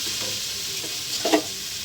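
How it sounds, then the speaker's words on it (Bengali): Spice paste fries in oil for a fish curry, giving a steady close sizzle with a brief scrape of stirring near the end. "ভালো করে কষানো হয়ে গেছে, তেল ছেড়ে দিয়েছে মশলা থেকে"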